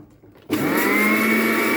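A blender making vegan mayonnaise suddenly whirs to life and keeps running at a loud, steady high-pitched drone.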